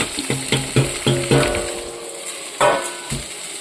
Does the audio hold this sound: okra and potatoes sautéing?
yes